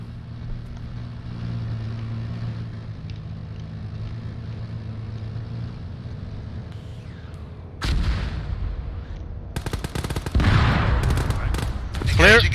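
Gunfire bursts erupt in an Arma 3 ambush on a BTR armored vehicle, loud broadband volleys starting partway through and growing denser near the end, after a stretch of steady vehicle-like rumble and radio chatter.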